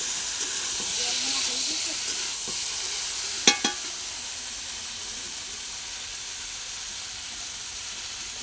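White greens stalks and tilapia curry sautés in a pan with a splash of water, a continuous soft sizzle and hiss broken once by a couple of sharp metallic clinks.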